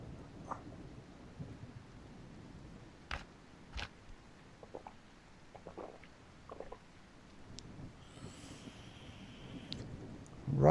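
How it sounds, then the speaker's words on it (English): Rain and thunder in the Mist Survival video game: a quiet, steady patter of rain runs throughout, broken by a few sharp distant cracks and soft rumbles, with a louder swell at the very end. "Rain's still going."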